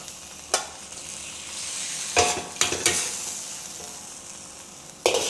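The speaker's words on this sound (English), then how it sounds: "Switch it off and add the garlic slices, mix together." Gai lan and sliced garlic are stirred in a wok with the heat switched off, giving a soft sizzle broken by a few sharp scraping and clattering strokes of the utensil.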